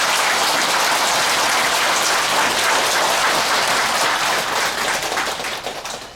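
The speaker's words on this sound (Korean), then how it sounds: "설법을 해주신 주지스님께 우리 불자님들도 부처님처럼 살아가며 실천하겠다는 화답의 박수를 다시 한번 부탁드립니다." Buddhist congregation applauding the head monk after his sermon at Gilsangsa temple during Buddha's Birthday, a dense, loud, rain-like wash of many hands that holds steady, then thins and fades toward the end.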